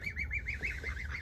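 Geese honk in a quick, nasal series of calls, fairly faint and close together, against a low background hum.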